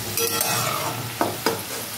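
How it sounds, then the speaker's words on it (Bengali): Beans tossed with vegetables in a hot pan, sizzling softly under a stirring spatula, with two brief sharp scrapes near the end; no voices. "বিনসগুলো দিয়ে দিলাম এর সাথে, দিয়ে একসাথে ভেজে নেব"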